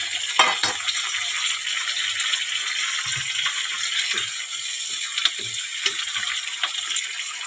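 Curry leaves, soybean and tomato sizzle in hot oil for kande pohe, a steady close frying hiss with scattered pops and a few soft stirring clatters, no talking.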